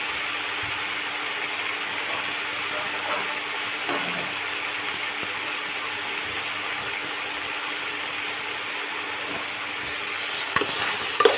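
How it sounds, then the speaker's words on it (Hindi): Chopped tomatoes frying and being stirred in a pan while making Maggi noodles, a steady close hiss of sizzling oil with faint scraping and clinks of the spoon, no talking. "टमाटर को भी अच्छी तरह मिलाते हुए भून लेंगे"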